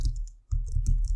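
Computer keyboard typing a command, a quick run of close crisp key clicks with a brief pause partway through, no talking.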